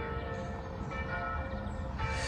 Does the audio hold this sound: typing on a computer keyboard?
no